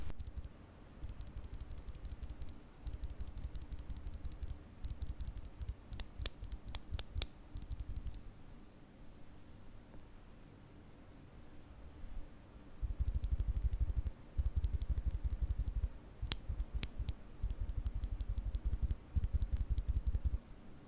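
Bursts of rapid clacky typing on a Nuphy Air75 low-profile mechanical keyboard with blue, red and brown switches, separated by short pauses, close and clear with no talking.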